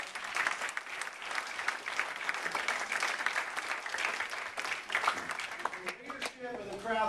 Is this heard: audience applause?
yes